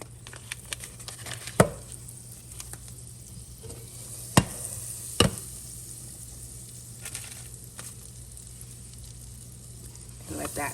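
Butter, about half a stick, melting into olive oil in a pot, a low steady sizzle and hiss running throughout with a few sharp clinks of a utensil against the pot.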